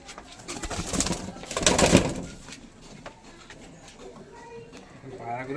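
Tournament racing pigeons cooing close by, soft throaty coos swelling and fading, with someone talking over them.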